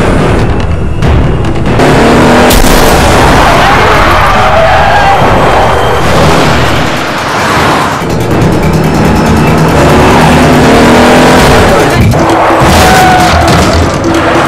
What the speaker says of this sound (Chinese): 丧彪驾车疯狂后退，马哥狂踩油门紧追不舍。